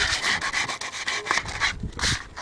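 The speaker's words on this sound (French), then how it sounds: "on frotte bien partout pour enlever tous les grains qui sont restés" Sandpaper rubbed firmly back and forth over wood while building a bed, a steady run of close scratchy strokes with a short pause before a final stroke.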